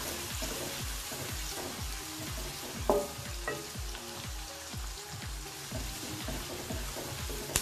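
Onions fry in a pan with oil and crackle in a busy, steady sizzle. Repeated scraping stirs fall in a regular rhythm, and one sharper clatter cuts through midway.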